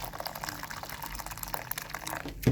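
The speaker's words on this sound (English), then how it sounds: "Put some boiling water here," Boiling water poured into a cup for a no-bake dessert, a brief close liquid splash and trickle that fades with a small knock at the end.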